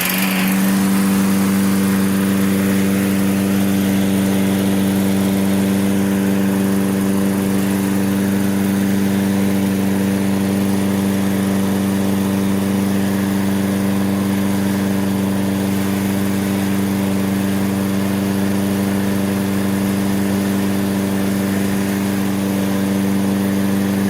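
A lawn mower engine runs steadily after being started, idling at a constant pitch with a strong humming drone and no change in speed for the whole stretch.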